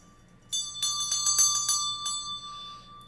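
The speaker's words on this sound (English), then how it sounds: "I feel like I should ring my bell." A hand bell rings for about a second and a half in a rapid series of bright shaking strikes, then fades with a lingering shimmer over a faint background hum.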